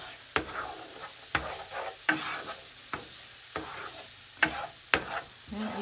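Onions with seasoning in a pan for empanada filling, heard as a low steady sizzle broken by about seven sharp scraping clatters of a utensil stirring against the pan, close and moderately loud with no talking.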